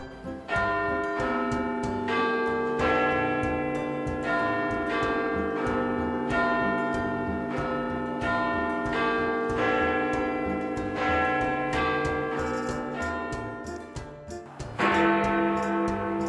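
Big Ben's quarter bells in London's Elizabeth Tower ring out a slow chiming melody, several loud, resonant struck notes overlapping and ringing on, followed by a fresh strike near the end.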